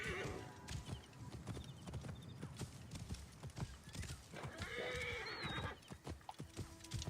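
Horse in the video game Assassin's Creed Origins galloping with rapid rhythmic hoofbeats, broken by a loud neigh and whinny partway through, the animal sounding close.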